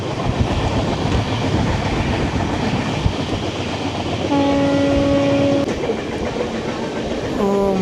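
Araku mountain railway train running past Eskot, a steady loud rumble and clatter of wheels and carriages throughout with a long horn blast in the second half and another at the end.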